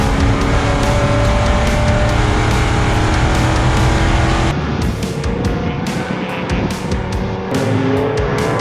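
Race car lapping a track, its engine roaring loud and close throughout with shifting pitch as it accelerates, a slight drop near the middle, and faint tire squeal.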